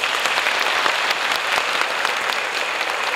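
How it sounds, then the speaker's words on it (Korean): Loud, full applause from a crowd at a 2018 POSTECH university entrance ceremony, a continuous wash of clapping lasting a few seconds. "마지막으로 큰 박수 부탁드립니다"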